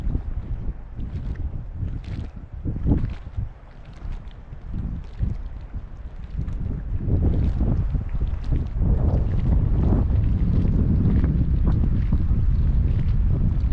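Wind gusts across a lake at Penrith Lakes, Australia, buffeting the microphone on a bass fishing boat, a rough low rumble that grows stronger and steadier toward the end.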